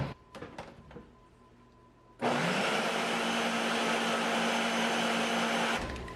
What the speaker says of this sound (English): And now we're going to blend this one more time.